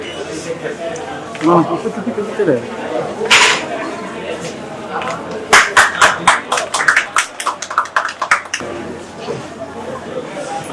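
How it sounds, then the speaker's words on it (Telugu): Audience applause at a jewellery showroom event in Guntur, a burst of clapping building in the second half and fading away, following someone speaking into a microphone and some chatter. "ప్రతి ఒక్కరు క్లాప్స్ కొడుతూ మనకు ఆనందాన్ని తెలియజేద్దాం"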